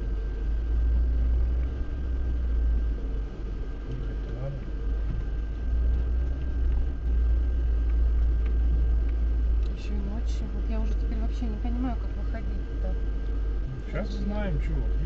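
A 2024 Lada Niva Bronto drives along a forest dirt road, its steady low engine drone and rumble running throughout, with people talking inside the cabin over it.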